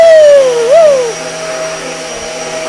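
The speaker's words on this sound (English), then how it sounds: "I'm vacuuming now" A household vacuum cleaner runs close by during home cleaning, its motor whine sliding down in pitch, briefly rising, then settling into a steady broadband roar with a high hum for the rest of the clip.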